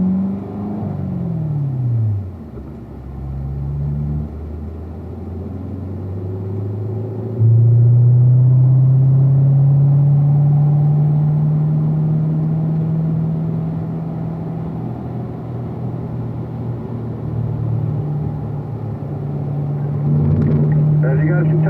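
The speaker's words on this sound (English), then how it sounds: "So we're just going to get up through the gears." A car engine on a race track cool-down lap climbs up through the gears, each rising pitch sweep dropping at a shift before settling into a steady, loud cruising drone, with light talk over it.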